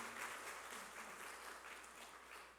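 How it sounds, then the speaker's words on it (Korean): A church congregation applauding during an afternoon worship service, a steady wash of clapping at moderate level throughout. "박수로 한번 격려해 주세요"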